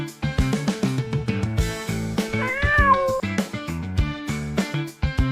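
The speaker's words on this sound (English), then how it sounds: "Mr. Clean Paws, the fastidious little kitten" Kitten meowing repeatedly, a run of close, clear, high-pitched mews in quick succession, some drawn out and wavering, with no talking.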